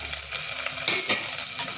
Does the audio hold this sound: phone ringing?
no